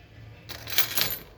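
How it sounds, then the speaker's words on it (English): Hotel room keys in an older key system at the RIU Guanacaste jangle in two or three bright metallic clinks, close and fairly quiet against faint room hum. "those are the room keys"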